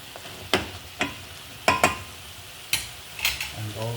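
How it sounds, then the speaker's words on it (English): Salt being stirred into frying liver and kidneys for a Kenyan dish, heard as several sharp scraping strokes of a utensil against the pan over a low, steady sizzle, close and fairly loud. "add in some salt for taste. And just mix that in quite well."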